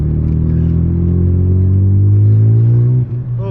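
A 1992 Mazda RX7 FD rotary engine revs loud and close under acceleration on its first drive, its pitch climbing steadily for about three seconds before it drops off sharply at a gear change.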